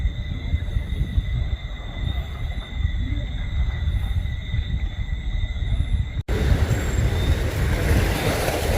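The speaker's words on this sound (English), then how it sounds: "sound of insects and frogs." Steady, high-pitched insect chirring and frog calls at night in a Grenada boat anchorage, over a constant rumble of wind and water.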